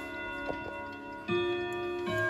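A new German cuckoo clock ticks quietly and evenly up close, a faint regular mechanical beat with a light metallic ring beneath it.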